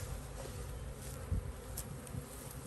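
Bees buzzing around a nuc beehive outdoors, a steady faint hum of many insects with a soft thump partway through.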